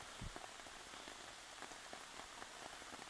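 Heavy rain pours down outside at a woodland camp, a dense steady hiss of drops drumming on a surface, with no voices.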